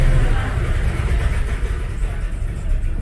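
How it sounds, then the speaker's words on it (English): A 1996 Jeep Grand Cherokee engine idles untouched after a warm start, with a steady, close, low rumbling drone and slight unevenness in the hum. "That was me letting it idle and not touching it."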